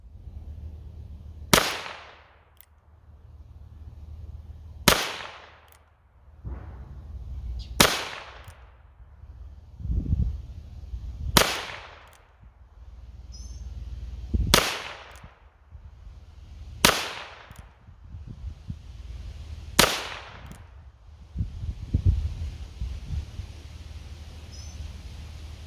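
A Smith & Wesson Model 617 .22 revolver fired offhand and unsupported at an outdoor range, eight sharp, loud cracks evenly spaced about every three seconds, each followed by a brief fading echo.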